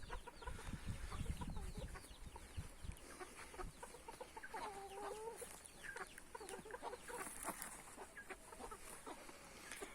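Chickens, including dwarf Cochins and roosters, cluck and murmur in a winter coop, a busy, moderately faint mix of calls with an occasional sharper squawk and no speech.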